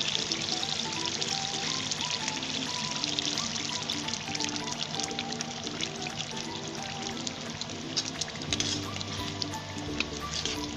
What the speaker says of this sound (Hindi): अब हम अपना इसमें दही का मसाला डाल देंगे